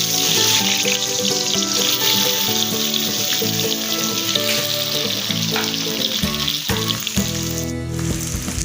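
Chhana, fresh paneer, frying in hot oil for a paneer curry: a strong, continuous sizzle running throughout, with music playing along underneath.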